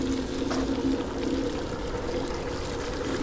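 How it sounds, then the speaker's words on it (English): Steady splashing and rushing water from a fountain in Auckland, continuous and moderately loud, with a faint outdoor ambience. "It's a pretty cool little fountain."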